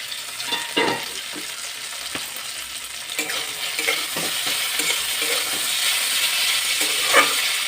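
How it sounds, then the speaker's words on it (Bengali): Cauliflower pieces fry in a pan for samosa filling, a continuous soft sizzle broken by scraping and clinking stirs from a spatula, close and moderately loud, with no talk. "এখন আমি ঢাকনাটা খুলে দেখব ফুলকপিগুলো ভাজা হয়েছে কিনা।"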